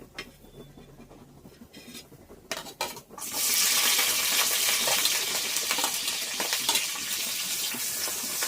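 Chopped onions dropped into a hot pan burst into a loud, continuous sizzle after a few clinks of utensils, frying steadily at close range.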